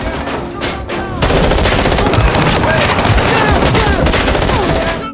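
Intense, rapid automatic gunfire roars without pause through a movie shootout between mafia members and FBI agents, with dense overlapping bursts, loud and close, and no voices.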